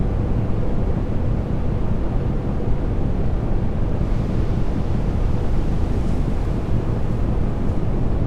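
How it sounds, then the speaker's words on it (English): Strong, steady wind roars in a ship simulator game at sea, a loud continuous broadband rush with a wave-like wash beneath it and no voices. "We're facing some wind."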